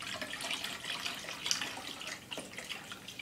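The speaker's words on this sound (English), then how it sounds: "In our 3-quart saucepan, we are adding one 32-ounce carton of vegetable broth" Vegetable broth pours from a 32-ounce carton into a 3-quart saucepan, a faint, continuous splashing trickle that lasts the whole few seconds.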